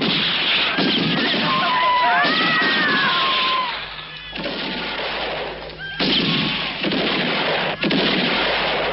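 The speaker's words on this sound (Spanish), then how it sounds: "Los chicos están disparando ahí fuera." Gunfire rings out during a bank robbery in a Western film: a dense run of shots and bursts with whistling tones above, loud and continuous, easing briefly mid-clip before resuming.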